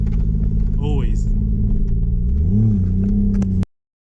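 Toyota Mark II JZX100 engine rumbling close by with a brief blip of revs, a person talking over it, before the sound cuts off abruptly.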